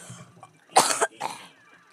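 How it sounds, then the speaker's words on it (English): A person coughs twice in quick succession, a sharp loud burst followed by a smaller one, close to the microphone with brief throat clearing. "Is your throat hurt or are you just coughing?"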